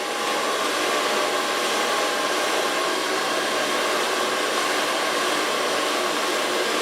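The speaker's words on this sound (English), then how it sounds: "I can blow dry from the roots up to the ends." A hair dryer blows steadily and close for the whole stretch while drying hair from roots to ends, a constant loud airy whoosh with a faint motor whine and no speech over it.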